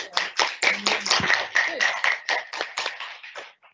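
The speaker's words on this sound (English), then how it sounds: "So round of applause again." A small group claps in a ragged, uneven round of applause, with distinct individual hand claps close by that thin out and fade toward the end.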